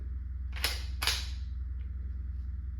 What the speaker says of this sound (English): I could hear the CO2 flow into it.